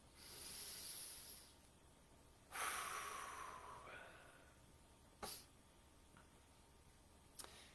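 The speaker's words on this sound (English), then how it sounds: "Take a deep healing breath." Slow, deep breaths during a guided meditation: a long airy inhale, a longer hissing exhale, then a couple of brief sharp sniffs, close and quiet with no talking.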